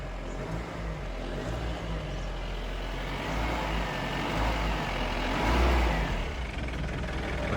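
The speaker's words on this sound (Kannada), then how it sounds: "ಬೇಕಿದ್ರೆ ಸ್ವಲ್ಪ ಎಕ್ಸ್ಲೇಟ್ ಕೊಡ್ತೇನೆ" A 2011 Mahindra Bolero's diesel engine idles, then revs up, a steady low rumble that rises to a louder, throatier surge before settling, heard close by.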